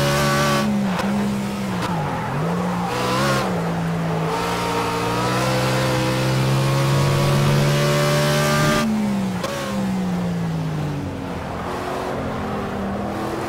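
Race car in a racing video game at Brands Hatch, engine droning loudly and steadily with rising and falling pitch as it accelerates and shifts, with tire squeal, continuous throughout.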